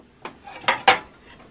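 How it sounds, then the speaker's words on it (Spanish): Ceramic plates and dishes of different colors and sizes being handled, three quick clattering knocks building to a loud clink, close by with no talking. "Aquí tengo estos otros platos, también diferentes colores,"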